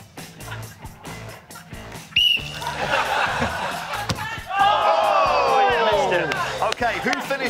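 A referee's whistle blown before a free-kick in a light-hearted football game, a sharp short blast followed by cheering and shouting from a crowd, with voices talking over the scene.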